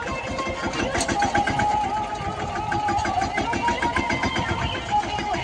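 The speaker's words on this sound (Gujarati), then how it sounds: "હવે મામા લઈ જાય ટ્રેક્ટર ઘર બાજુ" A tractor engine chugs steadily and continuously at moderate volume with a fast, even rhythm as it is driven home from the field after a day's ploughing on an Indian village farm.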